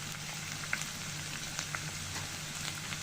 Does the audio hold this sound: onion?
yes